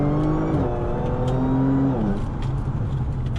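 An Audi B8 car with a faulty gearbox accelerating through first and second gear manually, engine droning and rising in pitch, dropping at the shift, then climbing again, loud and close.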